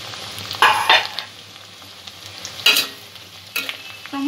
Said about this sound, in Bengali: টমেটোটাও একটু হালকা করে ভেজে নেব